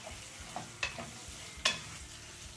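Sliced onions frying in hot oil with asafoetida in a pan, being stirred for a corn-flour upma snack; a faint, low sizzle sits under a few soft, scattered scrapes and taps of the spoon, with no talking.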